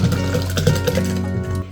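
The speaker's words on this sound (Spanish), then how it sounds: "lo que pueden hacer es batirlo muy fuertemente, ¿no? Así, hasta que se integre por completo" A rice and soap mixture beaten vigorously by hand in a container, giving a wet, sloshing stir with rhythmic clicks of the utensil against the sides, close and fairly loud with no voices.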